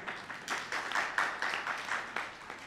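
Applause from an audience at an education meeting in Kebemer honouring school inspectors, a steady wash of many hands clapping at moderate distance, fairly quiet and even throughout.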